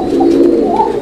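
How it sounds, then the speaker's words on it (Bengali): Kuka pigeons coo steadily at a pigeon market, a low, continuous throaty murmur held close and loud through the whole moment without any speech. "এটা কুকা, কুকা কবুতর"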